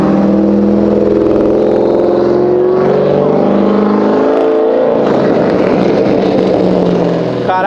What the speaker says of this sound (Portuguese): vocês viram o ronco do HB20?